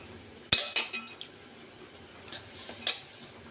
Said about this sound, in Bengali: তো এই যে কড়াটা বসিয়ে দিয়েছি।